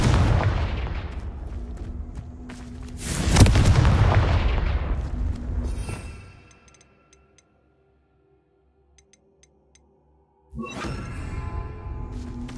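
Confringo blasting-curse explosions in Hogwarts Legacy, heard as a loud sustained burst with a sharp crack at about three and a half seconds, then near silence before another blast rings out.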